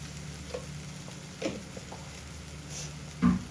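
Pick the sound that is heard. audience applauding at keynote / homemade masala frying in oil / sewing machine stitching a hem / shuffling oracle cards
homemade masala frying in oil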